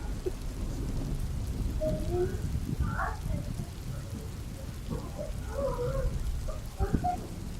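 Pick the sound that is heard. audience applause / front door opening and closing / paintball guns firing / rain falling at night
rain falling at night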